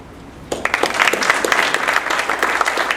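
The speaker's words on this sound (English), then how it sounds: "And we'll do one final round of applause for place 6." An audience at a city council candidates debate bursts into applause after a quiet moment, with dense clapping that stays strong and steady to the end.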